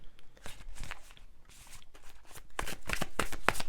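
Tarot cards being shuffled by hand, a series of close, crisp riffling and slapping bursts that grow busier and louder toward the end.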